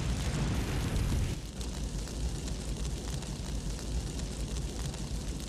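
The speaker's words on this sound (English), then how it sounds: "I can also make fire appear out of nowhere." A loud, roaring whoosh of a fire video effect bursts in with a dense rumbling surge, then settles into a sustained crackling flame roar that continues to the end.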